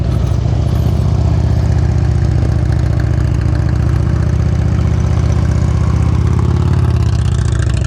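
A motorcycle engine runs steadily at low revs during slow-speed riding practice, a loud, continuous idling rumble close by with a rhythmic throb and no talk.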